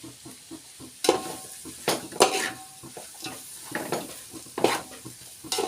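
Pulao ingredients stir-fry in a pan with a soft steady sizzle, broken by sharp scrapes and clinks of a spoon against the metal in irregular bursts, close by and with no talking.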